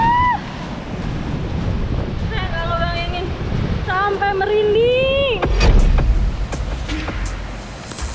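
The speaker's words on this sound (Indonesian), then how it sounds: "lihat di sana ada ombak" Ocean waves rumble and wash steadily in the background while voices talk over them, with a louder surge of surf near the end.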